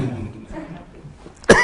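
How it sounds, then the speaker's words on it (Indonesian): A single short cough bursts out near the end, following a stretch of low murmuring speech from a man at a Paytren founder event. "Ini batuk alergi nih"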